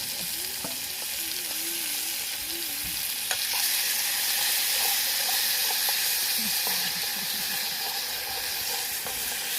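Green chillies and cumin seeds fry in hot oil with a loud, continuous sizzle and hiss, close up. Occasional soft clicks and scrapes come from stirring underneath.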